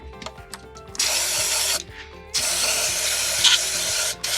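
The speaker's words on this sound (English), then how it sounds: "So again, generous amounts of spray just to remove the bulk of the material." Cleaning spray hisses in long, loud blasts onto the sleeve of a Paslode TrimMaster nail gun to clear carbon and dirt build-up, two sustained bursts separated by short pauses and faint clicking handling.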